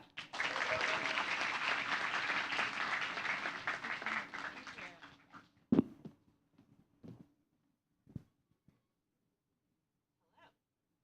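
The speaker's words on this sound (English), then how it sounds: "Give a big applause to Mary Trisha." An audience applauds to welcome an event moderator at a U.S. Embassy Jakarta gathering, with dense, steady clapping for about five seconds, then a few scattered claps and small sounds trailing into quiet.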